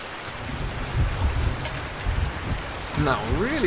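Steady rain falls in Farming Simulator 19 on the Oakfield Farm map, a continuous wash of droplet noise with low rumbles underneath, while someone talks over it throughout.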